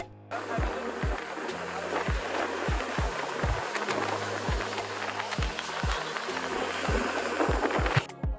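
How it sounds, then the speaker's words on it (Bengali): A speedboat crosses the open sea toward Sandwip Island, its engine droning steadily under broad rushing wind and spray while the hull thumps repeatedly against the waves in an irregular rhythm. "সাগরে স্পিডবোট চালানোর ক্ষেত্রেও চালককে অনেক সাবধানতা অবলম্বন করতে হয়"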